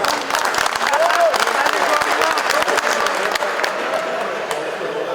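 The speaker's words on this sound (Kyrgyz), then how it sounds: "Қалыстар үчүн бир кол чаап коюңуздар" Crowd at a city futsal championship match applauding the referees, a dense, sustained burst of many hands clapping loudly together, with some voices mixed in.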